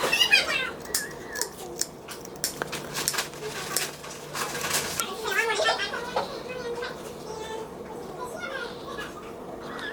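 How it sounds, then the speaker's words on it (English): Scissors snip close against skin while working under a feeding tube dressing, with a few soft, irregular cutting clicks and people talking quietly over them. "I gotta try to weasel that pair of scissors in there"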